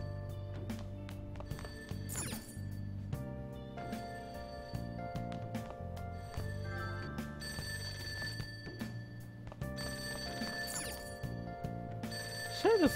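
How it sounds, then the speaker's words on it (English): A telephone rings downstairs in the Persona 5 video game, heard as repeated bell-like tones over layered game music and effects, fairly quiet overall. "That ringing sound isn't coming from my cell phone."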